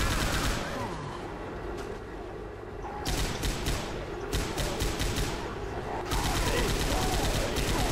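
Rapid gunfire rattles in the zombie shooter game Left 4 Dead: dense, continuous automatic bursts with brief pauses, loud and close, with players talking over the shooting.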